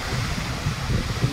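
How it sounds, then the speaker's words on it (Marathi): The Sahastrakund waterfall on the Painganga river in Kinwat taluka, Nanded, on the Vidarbha–Marathwada border, gives a steady, rumbling roar of falling water, broad and unbroken. "सहस्त्रकुंड धबधबा"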